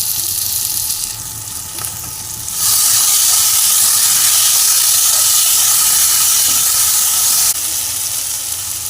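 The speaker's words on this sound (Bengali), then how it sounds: "এবার ভেজে রাখা আলুগুলোকে আমি দিয়ে দিলাম এর মধ্যে, দিয়ে মশলার সঙ্গে ভালো করে কষিয়ে নেব" Fried potatoes stir-fried in a spiced curry masala for a Bengali-style chicken curry sizzle and hiss loudly and steadily in the pan, the sizzle growing stronger for several seconds and then easing off a little.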